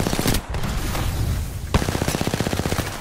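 A rapid automatic weapon spray in the Apex Legends battle royale shooter, loud and close, with dense repeated gunshots, a brief pause, then another fast burst of evenly spaced shots.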